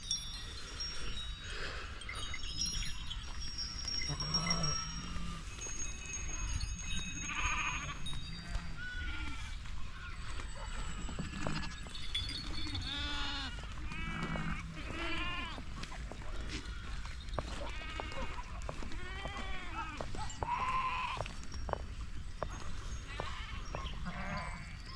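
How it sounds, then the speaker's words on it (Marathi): Sheep, with small lambs among them, bleat repeatedly and close by in a cold, dew-wet morning camp of the Sant Balumama palkhi, many overlapping calls rising and falling over steady background noise. "बघा मेंढी माऊली"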